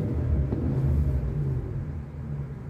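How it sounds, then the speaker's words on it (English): A car engine revving, a steady low rumble that swells and then eases off, close and continuous with no talking. "Also, I could also rev it up."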